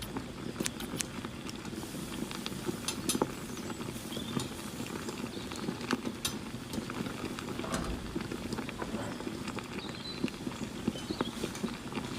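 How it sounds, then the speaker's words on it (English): Two pounds of raw chicken wings are rinsed with water in a home kitchen, making a continuous close splashing and pattering with scattered sharper drips and clicks, and no voices. "Wash them with water."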